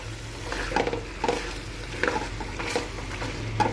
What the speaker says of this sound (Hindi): 1 टीस्पून हमने लहसुन अदरक की पेस्ट ऐड कर दी है। अब इसको भी हम मिक्स कर लेंगे।